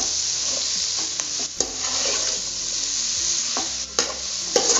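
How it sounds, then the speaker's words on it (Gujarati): Mixed vegetables with tomato and garlic for masala khichdi sizzle steadily in a hot pan while a spoon stirs and scrapes through them with a few sharp clinks against the metal, close and continuous. "હવે આ બધું શાકભાજી આપણે પાછું મિક્સ કરી લેશું."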